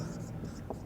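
Marker or chalk strokes on a board during a biology lecture on blood plasma, a short burst of scratchy writing heard under a teacher's ongoing speech.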